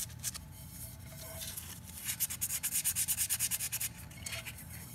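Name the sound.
sanding epoxy glitter coat on a cup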